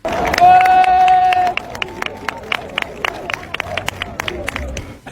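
Dense crowd noise with a loud cheer at first, then scattered sharp claps and applause continuing under a hubbub of voices.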